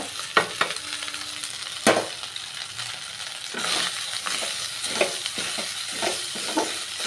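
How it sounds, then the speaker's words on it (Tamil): Cooked rice tossed and stirred in a frying pan with egg, a sizzling bed of sound broken by repeated scraping strokes and clinks of the spoon against the pan, close and fairly loud, with no talking. "இப்போ சாதத்தை கொட்டி கலரிக்கலாங்க."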